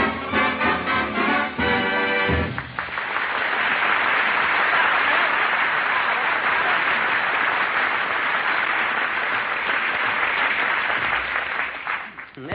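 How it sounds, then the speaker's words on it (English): Applause from a 1941 radio broadcast record follows a brief stretch of big-band singing, then a long, steady wall of clapping that fills the rest of the moment before fading at the end. "He even puts applause on the record."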